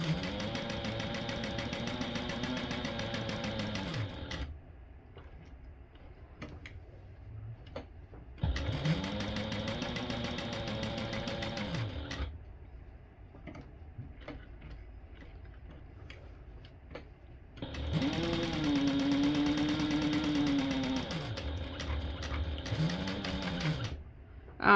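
A domestic sewing machine stitches a tote bag seam with a 1/4 inch allowance, running in three close bursts of steady whirring that speed up and slow down, separated by quiet pauses.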